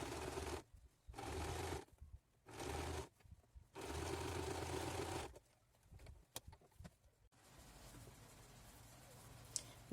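A sewing machine stitches a patchwork eco bag in several bursts of steady whirring, separated by short pauses, then quieter handling and rustling of fabric.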